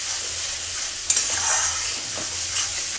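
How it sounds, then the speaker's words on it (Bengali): Spice paste with a little coconut frying and being stirred in a pan for potol chingri, a steady close sizzle with a couple of sharp scraping strokes, no voices. "মশলাটা এবার খুব ভালো করে কষিয়ে নেব।"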